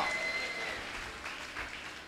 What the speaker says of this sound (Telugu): నమ్మిన వారందరూ చేతులు పైకెత్తి గట్టిగా హల్లెలూయా చెప్పి చప్పట్లు కొట్టండి